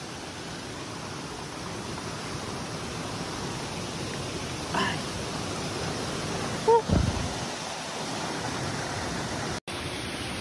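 Steady broadband rush of a waterfall in Siocon, Zamboanga del Norte, constant and enveloping throughout, with a brief splash or thump midway and no talk.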